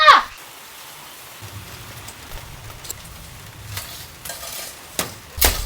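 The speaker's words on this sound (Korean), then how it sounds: "비가 점점 더 많이 와." Rain beginning to fall outdoors at a stone-laying site, a soft, steady hiss and patter that grows slightly, with a few louder close knocks scattered through it.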